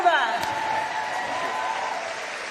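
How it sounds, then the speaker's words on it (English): Audience applause for Chef Nancy Silverton and Rob Ruba at the James Beard Awards restaurant and chef ceremony, a steady wash of clapping from a large crowd that holds at an even level throughout. "let's please give a healthy round of applause for Chef Nancy Silverton and"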